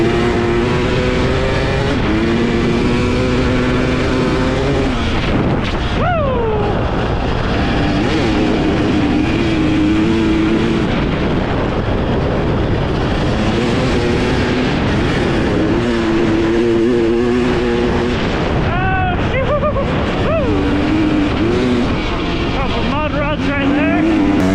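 A 2023 Husqvarna TX300 two-stroke dirt bike being ridden over hard ground, its engine droning loud and close with rising and falling revs and sharp pitch sweeps as the throttle changes, while a rider talks over it.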